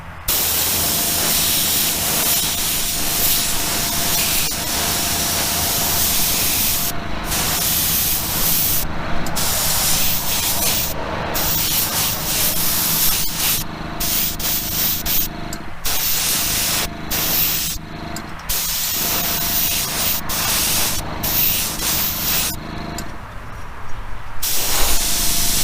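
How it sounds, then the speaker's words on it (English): A spray gun lays a paint coat on a custom Volkswagen, producing a loud, steady hiss that cuts out briefly again and again as the trigger is released between passes. "Because that was just a light mist tack coat."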